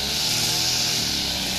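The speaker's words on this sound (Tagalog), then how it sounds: "Nagpapag-grass cutter ako." A cordless electric grass trimmer runs steadily with a loud, continuous buzzing whine, heard close up with no pauses.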